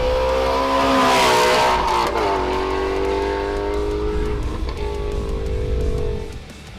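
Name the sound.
Shelby GT350R Voodoo engine 80 mph flyby in second gear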